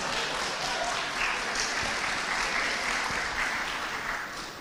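Steady applause from an audience, a dense patter of clapping that holds at an even level throughout without any talking.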